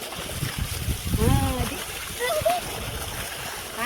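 Water gushes and splashes continuously from a borewell pump outlet on a farm, close by, while people talk and call out over it.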